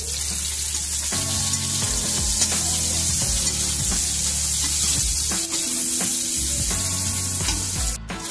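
Onions frying in a home kitchen pan after potatoes, a loud, steady sizzle close up with occasional clinks and soft scraping on top.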